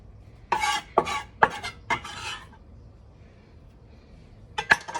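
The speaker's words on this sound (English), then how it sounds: "Give it a stir." Papaya salsa being stirred in a bowl, a quick burst of clinking and scraping of a utensil against the dish, a pause, then a couple more clinks.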